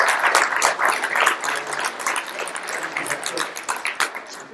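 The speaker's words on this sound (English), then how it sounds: "I want to give Jeff one more round of applause." An audience at a lakes and farm sustainability talk gives a round of applause, a moderate crowd clapping that gradually tapers off, with some voices mixed in.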